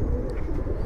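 Pigeons of a flying-breed (giribaz) flock give a low, soft cooing murmur, close and steady through a very short stretch with no talk.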